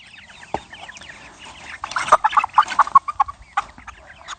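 Farm chickens in a mobile outdoor pen give a quick run of close, sharp clucks and squawks, with scattered calls before and after in a quiet setting.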